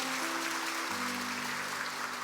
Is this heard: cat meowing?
no